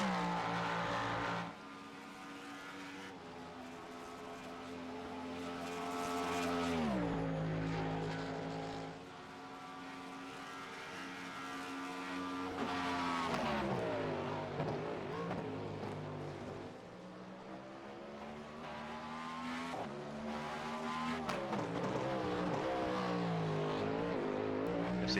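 Race cars lapping a track in a sim-racing 24-hour endurance event, engines rising and falling through gear changes as cars pass, a continuous loud, layered roar with no talking.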